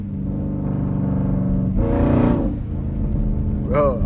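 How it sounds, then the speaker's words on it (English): A 5.7-litre Jeep engine revs while driving through a blizzard with traction control off, a steady low rumble swelling into a louder rising roar midway, heard from inside the cabin with a voice talking over it. "Bro's revving his engine in the snow."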